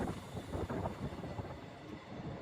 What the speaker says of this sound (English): It's a long old train, this.